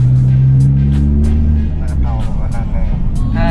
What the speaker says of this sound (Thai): เสียงเบิ้ลตัดเป็นไงพี่ชอบไหม